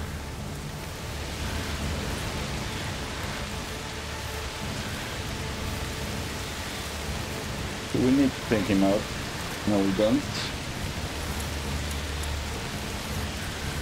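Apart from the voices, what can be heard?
rain falling, from the video game A Plague Tale: Requiem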